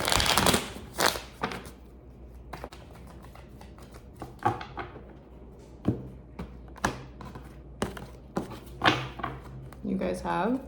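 Quick papery riffles and soft taps of tarot cards being shuffled, repeating in bursts at close range, with a voice talking intermittently over them.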